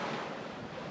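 Wind rushes steadily past a sailboat at sea, a full, constant roar close to the microphone with the wash of waves mixed in and no voices.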